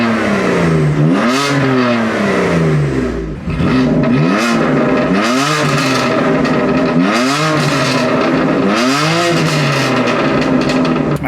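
A BMW F80 engine revs hard and very loud, with a series of sharp rev sweeps rising and falling in quick succession, close by and with no talking.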